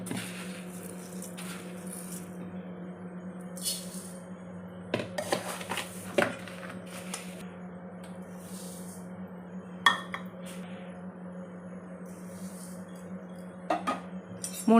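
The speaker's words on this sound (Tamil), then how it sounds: "இப்போ இதை வறுத்துக்கணும் கொஞ்சம் செவப்பாக." Raw rice dry-roasting in a pan for sweet pidi kozhukattai, a steady low hum with occasional clinks and scrapes of a utensil against the pan, close and fairly quiet.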